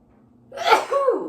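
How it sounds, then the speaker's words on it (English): A single sneeze: a quick sharp intake rising into a loud, explosive burst with a breathy tail, close and clear against a quiet background. "I feel a sneeze coming on"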